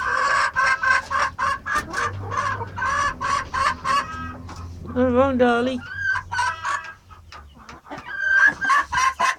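Silkie chickens clucking and calling close by, with a rooster-like crow mixed in, in a steady run of repeated clucks and squawks through most of the stretch, while a person speaks softly to the birds.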